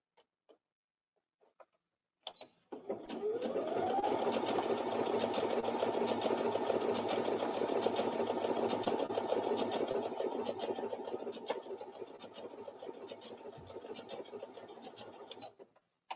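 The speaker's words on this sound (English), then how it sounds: "I might use the overcasting foot to finish the edge of a seam." A sewing machine with an overcasting foot finishes a seam edge at a quilt festival, running in one steady, even buzzing whir for about twelve seconds before stopping, with no talking.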